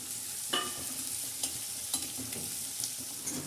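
Onion and spice masala for Punjabi kadhi pakora being fried with kasuri methi in a pan, a steady close sizzle broken by a few sharp scraping stirs of the spoon, with no talk.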